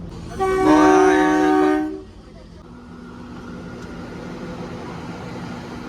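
A Himachal toy train arrives on its mountain railway, sounding one loud, sustained horn blast of about a second and a half, followed by the steady low rumble of the moving train nearby.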